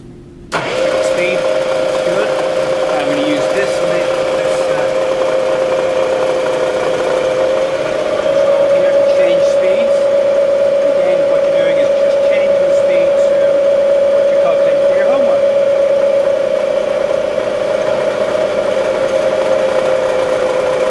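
A drill press motor whirs up and then runs steadily with a constant mid-pitched hum, loud and close, holding for a long stretch without pause.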